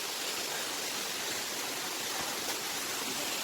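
Gundala waterfall roars as a dense, steady rush of falling water, loud and close, with no break or other sound over it.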